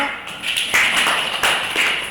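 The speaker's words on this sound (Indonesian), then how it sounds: "Kita tepuk tangan untuk kelompok 5." Scattered classroom clapping for a student group after a presentation, a few sharp claps at first swelling into brief uneven applause from a small group nearby.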